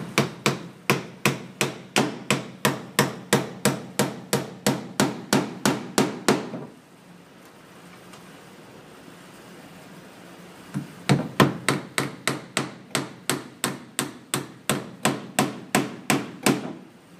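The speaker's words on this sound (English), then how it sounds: "I'm going to do that using a couple of 2-inch finish nails and a hammer." A hammer drives 2-inch finish nails into baseboard, with rapid, evenly spaced sharp strikes close up, a pause of a few seconds, then another steady run of blows.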